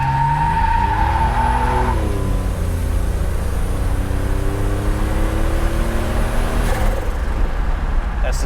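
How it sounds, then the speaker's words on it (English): A 1987 Buick Grand National turbo accelerates hard from a left turn as boost builds, its engine note climbing steadily through the gears, loud and close from inside the car with tire noise and no talk. "let's give it a test for the acceleration"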